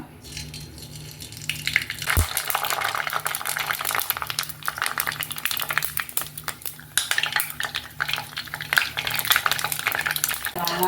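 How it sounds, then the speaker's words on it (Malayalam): Thin homemade papadum, made without sun-drying, frying in hot oil in a pan. A steady bubbling hiss runs throughout, with scattered clinks and scrapes from a utensil turning the wafers. "കുറച്ചെണ്ണം വറുത്തെടുക്കാം കേട്ടോ"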